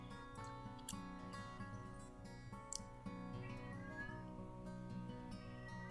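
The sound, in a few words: cat meowing outside the door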